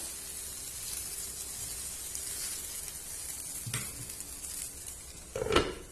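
Butter sizzles and crackles on a gola kebab, a steady close hiss with a sharper burst of spitting near the end as smoke builds.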